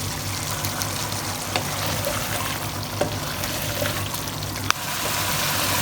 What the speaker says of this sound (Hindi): अब फ्लेम इसका मीडियम टू हाई करते हैं और इसको अच्छी तरह से भूनते हैं ताकि इसका पानी ड्राई हो जाए